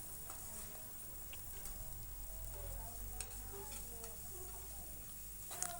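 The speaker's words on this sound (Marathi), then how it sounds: "तर छानपैकी आपण मिक्स करून घेऊया" Vegetables for homemade wheat-flour noodles sizzle and fry steadily in a pan while being stirred, with scattered spatula scrapes and clicks over a continuous hiss, no talking.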